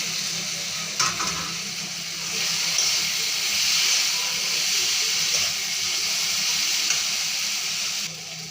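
Fish roe fries in a pan with cumin powder and green chillies, giving off a steady, close sizzling hiss with faint stirring noises and no voices.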